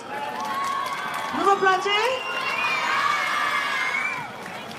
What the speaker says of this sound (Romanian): Așa că aplaud, aplaudați, vă rog frumos!